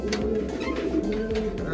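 Dholpur Buri breed pigeons cooing close by, a few soft, throaty coos repeating in quick succession over a brief moment.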